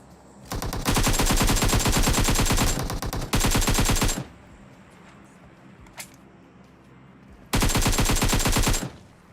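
M4 rifle fire in PUBG Mobile comes in loud, rapid automatic bursts, two long strings of shots close together, a pause with one faint distant pop, then another sustained burst.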